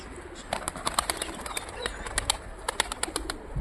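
Pigeons flap their wings in quick bursts of close, fluttering beats, with soft coos and some rustling between them.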